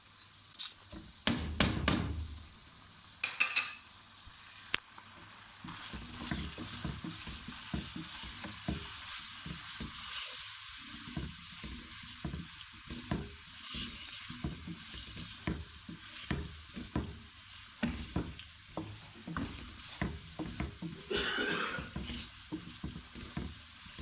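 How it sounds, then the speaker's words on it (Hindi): Pieces of meat fry in oil with spices for a Lahori masala gosht, a steady sizzle broken by repeated scraping and clanking of a spoon stirring the pot, close and fairly loud, with a few sharp knocks near the start. "थोड़ी देर के लिए भूनेंगे"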